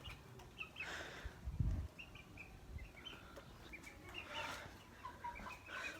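Newly brought hens in a coop cluck and chirp repeatedly, soft murmuring calls scattered through steady background rustle, with a low thump near the start.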